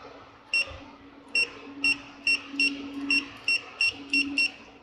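Continuity buzzer of a Fluke 83 multimeter beeping in short, evenly spaced bursts, about ten chirps in under five seconds, clear and close over a faint low hum.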